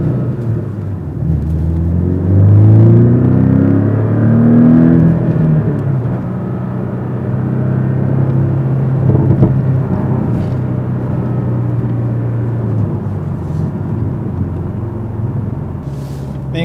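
A 2017 Porsche 718 Cayman S with its small turbocharged engine drives along a back road, giving a steady low engine rumble and exhaust drone with rising and falling revs, heard alone and close throughout.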